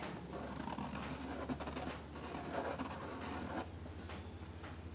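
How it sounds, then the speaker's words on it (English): A marker or pen traces a gasket outline onto a golf cart fuel tank, giving a steady close scratching and rubbing over a low background hum, with no talk. "I will trace out the middle of the gasket, and that's what we're going to cut out of the tank"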